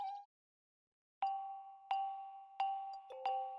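A notification bell sound effect gives a short ding, a brief pause, then four bright chime strikes in a quick, slightly uneven rhythm, clear and close with nothing else behind them.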